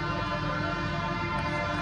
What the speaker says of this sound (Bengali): এটা ট্রেন চলে এসছে, সিঙ্গেল ট্র্যাক ট্রেন আছে এটা।